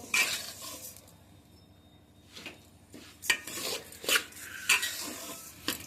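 Rice for Basanti pulao is stirred and fried in a pan over low to medium heat, with a gentle sizzle beneath a series of rhythmic spatula scrapes and light clinks against the metal.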